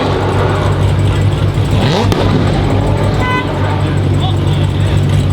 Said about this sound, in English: Your car popped right in front of that cop.